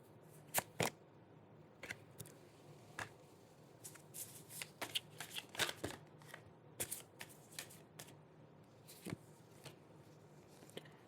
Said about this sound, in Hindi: और एक लेंगे कार्ड, देखते हैं क्या निकल के आता है।